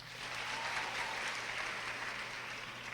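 Steady, dense applause from a graduation audience at an 8th grade ceremony, a continuous wash of many hands clapping for the full stretch without pause.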